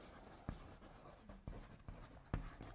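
Hand writing a word, likely with pen or chalk, in a few separate strokes and taps, faint and close, with a sharper tap near the end.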